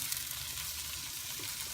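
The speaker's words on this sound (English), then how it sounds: "we're gonna cook the tomatoes for the next, I should say, 3 to 4 minutes." Tomatoes cook in a pan for a perch sarciado dish, giving a steady, soft hiss of frying that holds even throughout, with a faint clink near the end and no voices.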